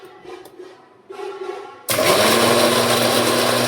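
Soft kitchen clatter gives way to a loud electric mixer grinder that starts suddenly and runs with a steady roar and whine, grinding cooled roasted spices into paste for Kolhapuri veg bhaji.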